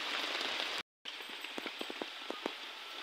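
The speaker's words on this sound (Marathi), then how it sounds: "आज लयच पाऊस आहे." Heavy rain pours down in a steady dense hiss, broken by a brief dropout, with sharp individual drops tapping nearby through the second half.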